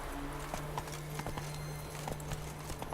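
Roach, a horse in The Witcher 3: Wild Hunt, galloping with rapid, rhythmic clip-clop hoofbeats over a low steady drone, the footfalls close and continuous throughout.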